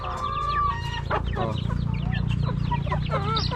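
Chickens clucking and calling in a farmyard, with other fowl and ducks kept nearby, a steady overlapping chorus of close clucks and short cries over a constant low rumble, with no talking.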